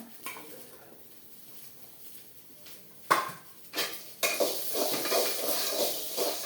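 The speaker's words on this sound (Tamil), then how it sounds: "அதனால சின்ன வெங்காயம் வதக்கணும்." Small onions sautéing in a pan, with a few sharp stirring scrapes and clinks of a utensil against the pan, then a loud, steady sizzle of frying that takes over and continues to the end.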